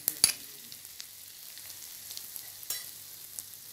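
Kashmiri chili powder, turmeric and asafoetida sizzle in hot oil for a soybean curry, a soft, steady hiss broken by a few sharp pops near the start.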